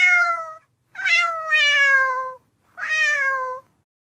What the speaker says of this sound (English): So that means we get to see the meow meow.